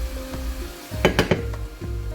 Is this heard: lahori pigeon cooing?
no